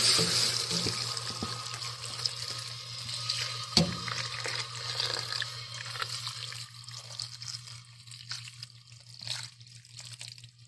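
Sauce pouring into a cooking pan, a soft continuous liquid trickle and splash with faint drips, steady and close, with a low hum beneath and no talk.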